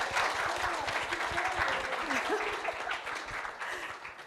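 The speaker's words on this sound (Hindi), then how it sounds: "जोरदार तालियां हो जाएं।" A crowd claps continuously at a film poster unveiling for Aayushmati Geeta Matric Pass, a dense, moderately loud round of applause lasting several seconds, with a voice faintly audible underneath.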